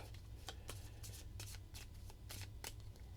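A deck of cards from a solo board game being shuffled, a quiet close-up riffling in several quick bursts over a low steady hum.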